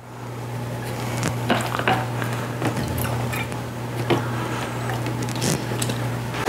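Milk is mixed into waffle batter in a bowl, giving soft wet squishing and occasional taps of the utensil against the bowl, over a steady low kitchen hum.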